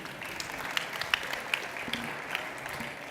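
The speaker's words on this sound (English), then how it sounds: "Round of applause for Juan." Quiet, thin applause from an audience at a startup pitch event, with a few scattered distinct claps over a soft, diffuse background.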